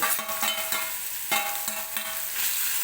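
Mashed eggplant being mixed into hot oil with a little turmeric in a pan for bharit: a continuous oily sizzle with repeated scraping stir strokes and a few sharper utensil knocks, close and steady.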